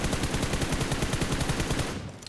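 Rapid automatic gunfire in PUBG Mobile while standing and shooting with a fully kitted weapon, a loud, fast, evenly spaced burst of shots lasting about two seconds before cutting off.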